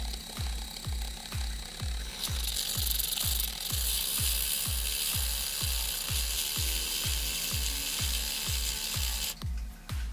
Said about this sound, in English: It's time to blend up this chocolatey goodness.